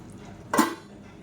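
A utensil stirs egg curry made with five eggs in a pot: one sharp metallic clink of spoon against the pot rim, then faint low background hiss, with no talking.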